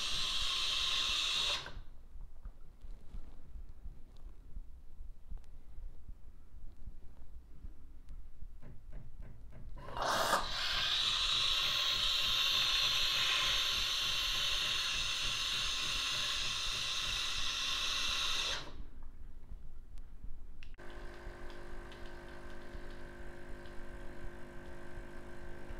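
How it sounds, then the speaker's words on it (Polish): A Jura Z10 coffee machine rinses its milk system with water and cleaning fluid, giving steady hissing and gurgling with bursts of loud steam that start and stop in phases, with no voices. "Ekspres w chwili obecnej pobiera wodę z płynem i przepłukuje cały system mleczny."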